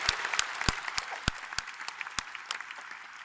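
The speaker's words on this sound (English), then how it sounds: "I think that deserves a round of applause" A small audience claps for new business owners at a testimonial gathering, a light scattering of separate claps with sharp individual hits and no voices.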